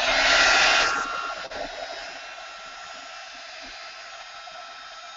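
A hair dryer blows loudly and close while drying an art journal page. It roars for about a second, then drops to a steadier, softer whir that continues to the end.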